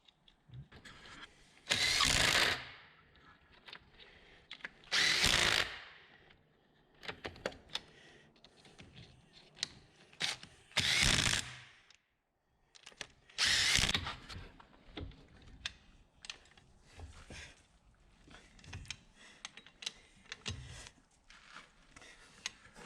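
Power tool fastening bolts on the sprocket of a Terex skid steer: four loud bursts of driving, each lasting about a second and spaced a few seconds apart, with quieter clicks and shop noise in between.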